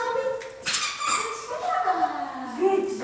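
Puppies whimper, yip and whine in a home setting, high-pitched squeals rising and falling across the whole stretch, with people talking encouragingly over them.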